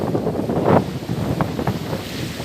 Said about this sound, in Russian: Вот это называется Черное море.